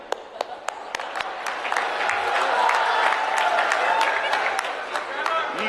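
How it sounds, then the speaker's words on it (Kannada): An audience claps at a political speech criticising GST, a scattered patter of hands that builds into broad crowd applause and then fades, with a voice speaking through it. "ಅದಕ್ಕೂ ಚಪ್ಪಾಳೆ ತಟ್ಟದು"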